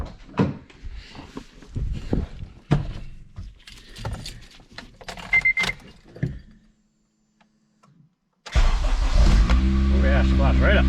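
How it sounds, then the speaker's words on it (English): Used junkyard engine in a Honda Civic FG2 cranking and firing up, preceded by shop clatter and a voice, then a sudden loud, steady idle that runs through the end. "now that I know the motor's got oil pressure, I think we're ready to see if it'll start."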